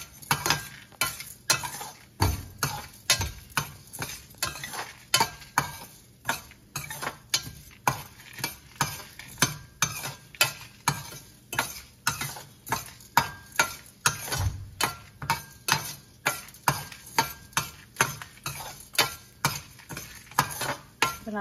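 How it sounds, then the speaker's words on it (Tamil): Urad dal dry-frying in a pan and stirred steadily with a utensil, a rhythmic series of close scraping strokes over a soft sizzle, repeating at an even pace throughout. "போட்டாச்சு, இப்போ வறுக்க போகிறோம்."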